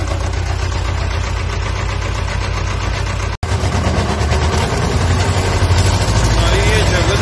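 A machine engine not yet warmed up runs steadily and loudly, a close continuous idle-like drone with a brief cut partway through.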